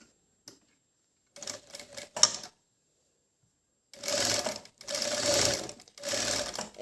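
A sewing machine stitches fabric for a niqab, starting with short stop-start whirring bursts, then running in longer fast rattling runs with brief pauses between them, close and clear.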